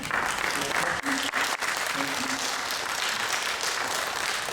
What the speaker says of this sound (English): If everyone would give a round of applause for me.